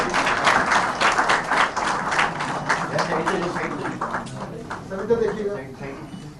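Audience at an IT board event in Pakistan breaks into applause, a dense burst of hand clapping that rings out loud and gradually thins and fades, with a voice speaking over it near the end.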